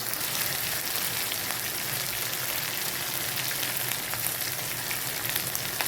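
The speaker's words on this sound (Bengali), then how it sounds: "আমি মশলাগুলোকে কষিয়ে নিচ্ছি" Ground spices with dried chilli paste, salt and turmeric sizzle steadily in a pan while cooking for a Bengali meat ghugni, a continuous close frying hiss with no pauses or voices.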